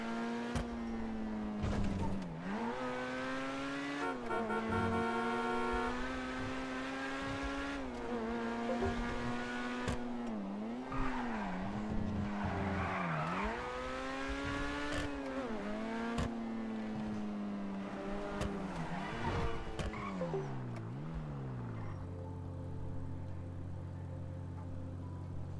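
Car engine in a video game drives steadily with pitch rising and falling through shifts and turns, ending in a held skid-like tone, loud and continuous with faint music and little talk.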